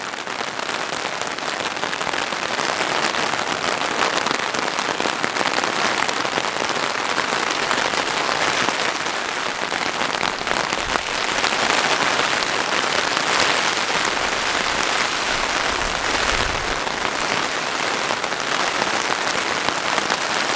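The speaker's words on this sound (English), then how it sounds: "So the rain's been going pretty heavy now for the last couple of hours." Heavy rain drums continuously and loudly on the fabric of a KEA 2 tent, a dense steady patter with no pauses or voices.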